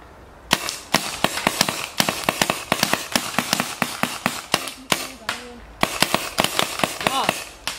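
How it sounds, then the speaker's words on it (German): Paintball guns fire at two tin cans outdoors, a rapid series of sharp close pops in bursts with short pauses, a few brief voices between shots. "ich schieße jetzt mit meiner Freundin auf die zwei Dosen, die da hinten stehen mit den Paintball-Waffen"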